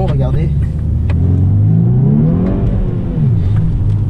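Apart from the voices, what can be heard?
car accelerating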